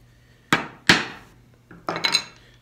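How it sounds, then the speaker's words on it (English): A large chisel struck with a mallet to mark a dovetail baseline in a wooden drawer part: two sharp close knocks, a light tap, then a couple of quicker ringing blows. "I start away from the line and just make a mark with my larger chisel"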